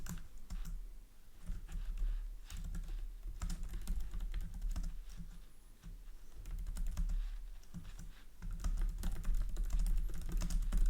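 Someone types on a computer keyboard close by, a rapid, uneven run of light key clicks with brief pauses, with no talk over it.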